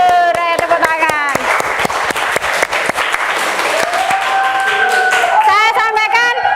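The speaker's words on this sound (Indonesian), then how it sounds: "Ayo tepuk tangan" A class of ninth-grade students claps their hands in a steady rhythmic pattern, loud and close, while a voice talks over the clapping throughout.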